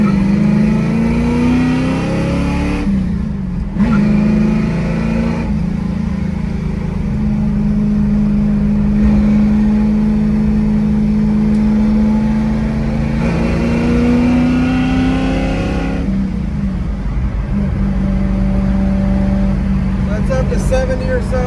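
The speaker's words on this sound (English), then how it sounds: "We'll do a little first gear pull." A 1968 Ford Mustang with a 302 V8, four-speed manual and 3.73 gears makes a first-gear pull. The engine note climbs loud and close, drops at each shift and rises again, while a person talks over it.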